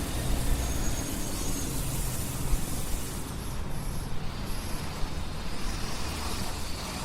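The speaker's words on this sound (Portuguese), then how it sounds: "Hoje a gente aqui nesse barulho de carro passando, helicóptero." Steady broadband roar of city traffic in Rio de Janeiro, cars passing continuously at a moderate distance with no distinct pauses and no voices.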